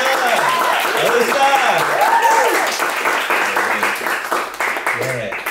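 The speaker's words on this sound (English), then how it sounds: "let's give a big round of applause for everyone you saw tonight" An audience at a poetry night breaks into loud, sustained applause for the student poets, dense clapping filling the room, with voices calling out over it.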